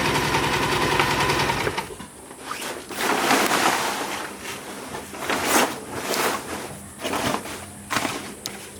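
A sewing machine stitches a UV sacrificial strip onto a genoa or jib sail, a continuous loud mechanical whir with rhythmic clacking and uneven pulses as the heavy sailcloth is fed through.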